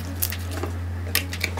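Faint, sparse crackles and soft squishes of slime being handled, a few small pops scattered over a steady low electrical hum.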